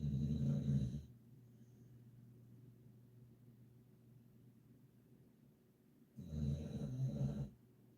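A person snores nearby with two deep, rasping breaths several seconds apart. Quiet room hiss fills the gap between them.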